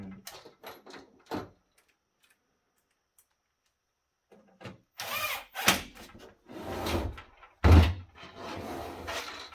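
Screws driven into the side panel of a recycled PC case during a budget gaming PC build, heard as bursts of grinding, clicking metal-on-metal tool noise after a quiet stretch, with some handling knocks close by.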